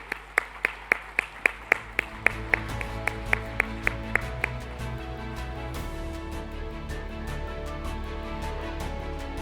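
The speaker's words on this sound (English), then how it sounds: "please give a big round of applause to welcome, ladies and gentlemen." Audience applause at a formal business conference stage welcome, beginning with a few sharp individual claps in a steady rhythm before merging into a denser, softer round of clapping that continues to the end.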